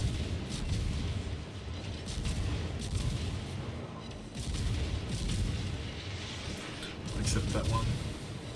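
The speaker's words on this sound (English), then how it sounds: "Just a constant rate of fire here on the Petro." The Petro warship in World of Warships keeps up a constant rate of fire. Booming naval gun salvos roll one after another over a continuous heavy rumble of battle.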